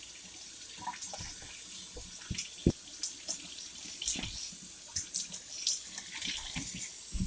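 Oxtails being rinsed under a running kitchen tap: a faint, steady stream of water with scattered splashes and soft knocks as the meat is handled, close by, with no talk.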